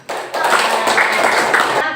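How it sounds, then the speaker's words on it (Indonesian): Short burst of applause in a classroom lesson, a small group clapping quickly and fairly close for about two seconds, with no talking over it. "Ya, tepuk tangan."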